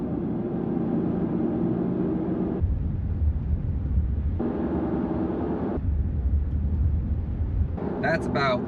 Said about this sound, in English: here is just a quick reference of what all-season factory tires sound like on your car